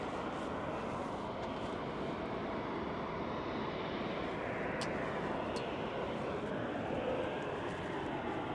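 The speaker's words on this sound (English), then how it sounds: "Our next heavy arrival is United Airlines Flight 3A coming up from Tokyo Haneda on a 787-10 Dreamliner" A United Airlines Boeing 787-10 Dreamliner arriving from Tokyo Haneda, its steady broadband jet roar sustained and fairly loud throughout, with no voices.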